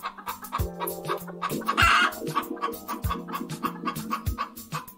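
Cartoon chickens cluck in quick, close, chattering bursts, with one brief louder squawk in the middle and no talking.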